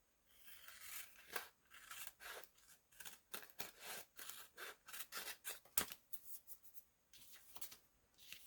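Scissors snip repeatedly at close range, a quick irregular series of crisp cuts with brief pauses between bursts; no talking.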